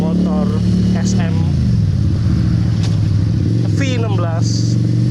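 An SM V16 V-twin 250cc cruiser motorcycle on the move, with a loud, steady, close-up engine drone whose pitch sweeps as the rider shifts throttle; a voice talks over it.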